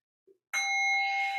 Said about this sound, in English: Can you do a bell at the beginning of that?